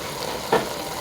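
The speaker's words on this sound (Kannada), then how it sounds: "ಮಸಾಲ ರೆಡಿ ಆದಮೇಲೆ ಇದಕ್ಕೆ ಈ ಟೈಮಲ್ಲಿ ನೀಟಾಗಿ ವಾಶ್ ಮಾಡಿರ್ತಕ್ಕಂಥ ಮಟನನ್ನು ಡೈರೆಕ್ಟಾಗಿ ಇದಕ್ಕೆ ಸೇರಿಸಿ" Mutton frying in biryani masala in a pan gives a steady close sizzle, broken once by a short stirring scrape.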